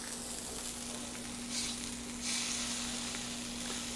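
Steaks sear in hot canola oil in a pan, giving a loud, steady sizzle with a couple of brief surges as the meat is pressed down, close up and without talk.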